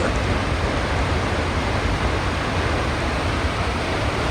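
Steady, loud broadband roar of a large waterfall in Iceland, heard up close with a cave behind the falls, a dense unbroken rush of water with no pauses or voices.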